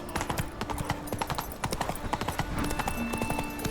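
Roach, the horse in The Witcher 3, gallops with a quick, steady clip-clop of hooves on hard ground, close and fairly loud throughout, with faint game ambience underneath.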